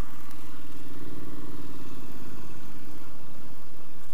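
A Triumph Street Scrambler motorcycle engine burbles while riding, a steady close low-to-mid throb with uneven clattery pulses and no talking.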